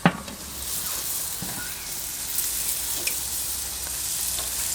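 Pork chops sizzle steadily on a barbecue, a constant bright hiss of fat with a few soft pops and a sharp tap near the start, close and without any voices.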